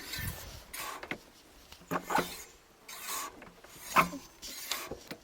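Quiet, intermittent rasping and rubbing as a Lankeleisi MG600 Plus electric fat bike wheel turns with brake pads lightly touching, with a few sharper scraping strokes in an uneven rhythm.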